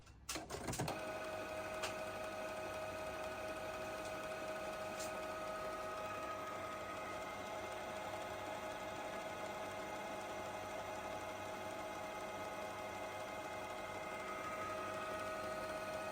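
A Canon G3010 inkjet printer running its print head cleaning cycle gives a steady mechanical hum with faint tonal whine, continuous and alone after a brief startup clatter.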